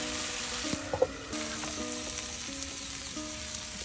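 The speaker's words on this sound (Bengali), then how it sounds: "দেখুন ভেজে নেওয়া হচ্ছে আলু কুচুগুলো" Potato pieces fry in oil in a village kitchen, a steady close sizzle with a few brief clinks and stirring knocks, no voices.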